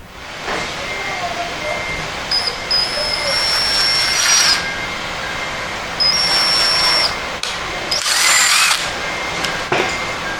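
Bursts of a power drill whirring in several separate runs while repairing a Honda NSX's broken A-pillar, loud and close, with short pauses and some clattering between them.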